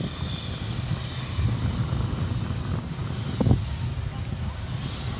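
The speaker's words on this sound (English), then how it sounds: "It's an A300. And it is arriving to us from Orlando, Florida." UPS Airbus A300 cargo jet arriving at DFW airport at night, a continuous broad jet engine roar with wind rumble, moderately loud and steady throughout.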